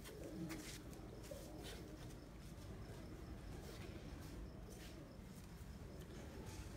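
Pigeons coo softly at a loft in Sialkot, their low repeated calls blending with a steady background hum and faint ambient noise, no speech.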